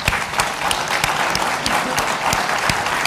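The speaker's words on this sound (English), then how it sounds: "Please join me, give another warm, a big applause for Dr. Kissinger." Audience applause fills the hall after a talk by Henry Kissinger on U.S.-Asia relations, a steady dense clapping from a large seated crowd, close and sustained without a break.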